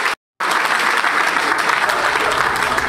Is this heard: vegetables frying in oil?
no